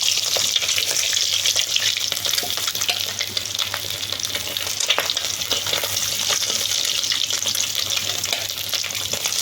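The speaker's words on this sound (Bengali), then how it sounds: "একদম লাল লাল করে সুন্দর করে ভাজবো ডিমগুলোকে" Boiled eggs for an egg curry fry in hot oil to a reddish brown, making a dense, steady crackling sizzle with occasional spatters throughout, close and fairly loud.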